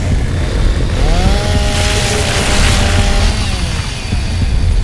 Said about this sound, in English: Yeah, I'm still hearing this chainsaw.